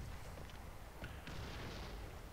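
Panther II tank cannon fire in War Thunder, a low booming blast with a rumbling tail that carries on through steady battlefield noise, with no other shots standing out clearly.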